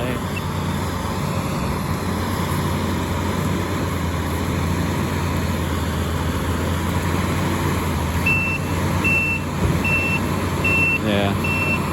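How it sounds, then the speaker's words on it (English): A skid steer digging a ditch on a farm, with a steady low diesel engine rumble throughout and a run of evenly spaced reversing beeps near the end, while people talk over it. "Skid steer is tackling it very well,"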